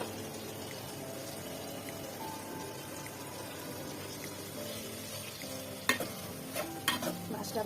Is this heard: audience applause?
no